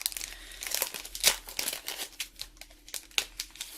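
A plastic packet of craft dimensional adhesive foam pads crinkles and crackles up close, with several sharp crunches and tearing sounds as it is pulled open on a card-making desk.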